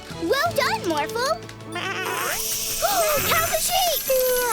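Cartoon sheep bleating in a series of wavering, voiced bleats that rise and fall in pitch, several in quick succession, with cartoon character voices and music-like tones around them.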